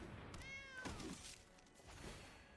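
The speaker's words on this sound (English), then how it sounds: "I like how the lion sound effects are randomized, so you'll just get an innocent meow" A cat-like meow plays as a lion card's sound effect in the Magic: the Gathering Arena digital card game, one drawn-out rising and falling meow followed by soft thuds, clear and close with no talking.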